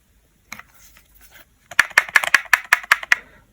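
Close, quick clicking rattle of a Spyderco Fred Perrin Street Bowie knife shifting loose in a hard kydex sheath, about eight sharp taps in a fast, regular rhythm.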